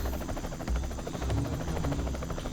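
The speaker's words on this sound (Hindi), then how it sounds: "वो देखो, हेलीकॉप्टर" A helicopter flying overhead in a forest, heard as a steady low rotor thrum and buzz that holds loud and unbroken throughout, with no voices.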